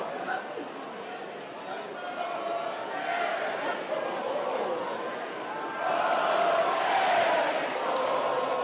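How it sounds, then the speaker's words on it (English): Corbyn supporters at a Labour party conference vote cheer and chant his name, a dense crowd roar swelling into louder rhythmic singing toward the end. "Corbyn supporters cheering and singing his name"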